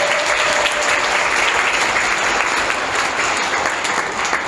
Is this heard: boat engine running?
no